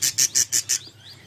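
Rainbow budgerigar chicks chirp close by in a breeding setup. Five evenly spaced, high, sharp cheeps come in quick succession, followed by softer, fainter chirps.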